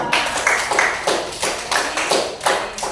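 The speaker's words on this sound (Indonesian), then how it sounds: "Kami tepuk tangannya meriah buat Asifa" A classroom of pupils claps for a classmate, a quick uneven burst of hand claps, close and lively, with no talking.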